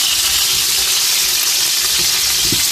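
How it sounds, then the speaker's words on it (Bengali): Roti crackling as it fries in a pan during home cooking, a steady close sizzle with a few soft clinks near the end and no talk. "এখন রুটি সাদা ভাজা হচ্ছে"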